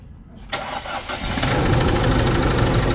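An Isuzu D-Max 1.9 diesel pickup engine with engine knock, white smoke and an abnormal noise cranks and catches around the half-second mark, then settles into a loud, steady idle that fills the rest of the clip.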